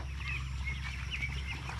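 A flock of farm ducks heading toward a creek calls in short, scattered quacks and clucks, fairly faint and at some distance over a low steady hum.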